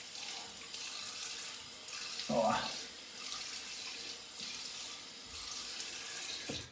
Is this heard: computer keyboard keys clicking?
no